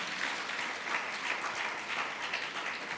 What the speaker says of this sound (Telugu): చప్పట్లు కొట్టి ప్రభువుని మహిమపరుస్తారా?